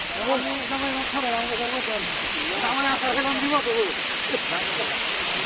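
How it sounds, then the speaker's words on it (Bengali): Heavy rain roars as a steady, dense hiss during a wedding procession in Bangladesh, with people talking loudly over it throughout. "প্রচন্ড বৃষ্টি হচ্ছে"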